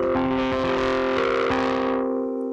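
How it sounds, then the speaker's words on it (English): Electric piano from the Addictive Keys plugin played through a harsh distortion effect, a gritty, buzzing sustained chord with a few re-struck notes, loud and alone, fading out near the end. "Harsh distortion."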